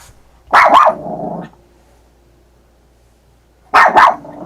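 A dog barks at a mayfly in two short bursts, a sharp double bark followed by a pause and then another bark, close and loud with no talking.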